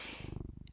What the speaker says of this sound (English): I'm sorry if you hear my cat purring.